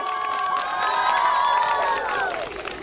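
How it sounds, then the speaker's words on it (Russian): An outdoor crowd at a city New Year tree opening cheers and calls out in several high, sustained voices, loud and close, with sparse clapping beneath, easing off toward the end. "Ваши аплодисменты."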